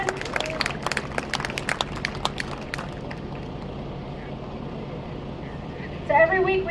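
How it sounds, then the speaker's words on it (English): A crowd at a rally barbecue claps for a woman, with scattered, fairly close hand claps that thin out and stop after a few seconds before a voice begins speaking. "Everybody give up a round of applause for Jan."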